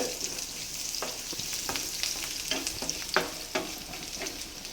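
Garlic and red chilli fry in hot oil, a loud, close, continuous sizzle broken by repeated stirring scrapes in the pan, with no talking.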